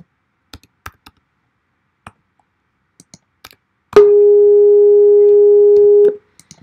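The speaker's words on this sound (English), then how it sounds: "Now let's go back to the sine wave for comparison." A pure, steady sine wave tone generated in Pure Data sounds for about two seconds after scattered keyboard clicks and mouse taps, clean and constant before cutting off.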